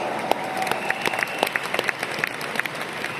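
Audience applause at a leadership training seminar, lighter and less dense, with individual sharp claps standing out against a busy crowd bed.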